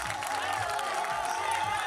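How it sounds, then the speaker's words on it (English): An audience applauds at an African culture event showcasing woven fabrics, a steady wash of clapping and crowd noise with a voice running over it throughout. "vous avez applaudi"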